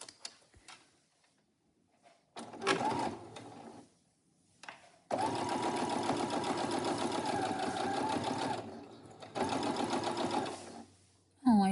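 A sewing machine stitches in several close, loud bursts: a short run, then a long steady whir, then another run, with quiet pauses between.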